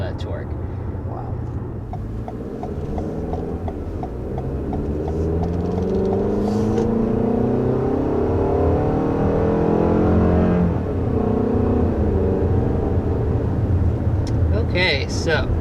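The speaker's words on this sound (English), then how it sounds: "Okay, so first taking off in this 2021 RAV4." 2021 Toyota RAV4 with its 2.5-liter four-cylinder pulling away from a standstill, heard from inside the cabin as a steady, rising engine drone with climbing tones while someone talks over it.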